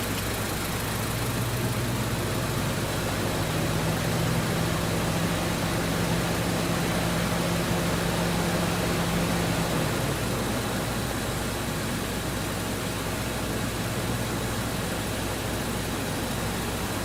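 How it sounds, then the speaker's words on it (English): Steady broadband hum of a 2014 Chevy Cruze idling with the air conditioning running, a continuous even drone with a low engine tone, close and fairly loud, no talking. "AC has kicked on."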